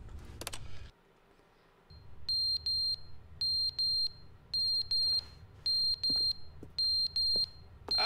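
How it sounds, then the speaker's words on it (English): A high electronic alarm in The Stanley Parable sounds in repeated pairs of sharp beeps with short gaps between them, steady and insistent over a low room hum, preceded by a brief thump. "There's beeping."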